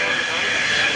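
An F-16 jet roars steadily overhead while coming in to land at a Rhode Island Air National Guard airshow, a loud continuous engine rush with an announcer talking over it.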